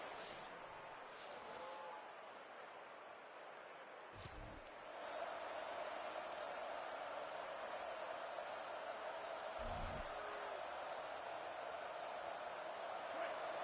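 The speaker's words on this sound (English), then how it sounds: "This crowd bringing the energy and noise early" Steady stadium crowd roar, a broad wash of noise that swells slightly louder partway through, with a few brief thumps and bangs over it.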